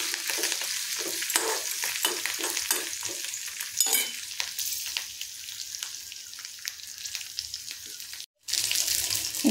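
Ingredients for coriander chutney sizzle steadily in a pan with occasional stirring clinks, a continuous close frying hiss that drops out briefly near the end before resuming.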